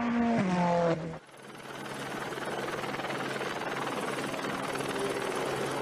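Helicopter rotor and engine whir over the Autodromo Nazionale Monza circuit during a Ferrari Challenge North America race weekend, a steady broadband drone filling the scene after a brief burst of other sound at the start.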